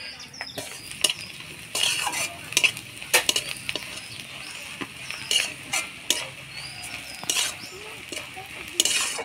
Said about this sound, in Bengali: নারকেল কোড়াগুলো দিয়ে ভালো করে নাড়াচাড়া করে নিলাম